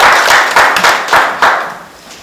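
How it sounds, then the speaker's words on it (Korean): An audience at a policy forum on the fire-safety industry gives loud, close applause, a dense patter of many hands in a few swelling waves that gradually fade over two seconds. "따뜻한 박수 부탁드립니다"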